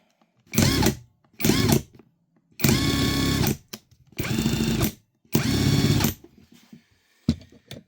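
A power tool with a cheap Chinese saw blade revs up in five loud bursts of a second or so each, separated by short quiet pauses, close by.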